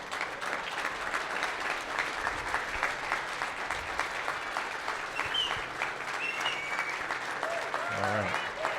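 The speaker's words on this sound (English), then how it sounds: "let's give them a round of applause" A wedding hall audience stands and applauds the veterans among them, a sustained, even round of clapping from many guests, loud and steady with a few voices mixed in.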